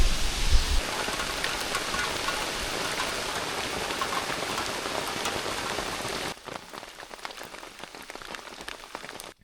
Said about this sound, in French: ça fait 2 heures qu'il mouille.